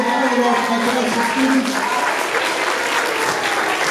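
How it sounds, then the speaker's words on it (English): An audience at a third- and fourth-grade math competition awards ceremony gives the students loud, sustained applause, a dense steady roar of clapping from start to finish. "Give them all another round of applause"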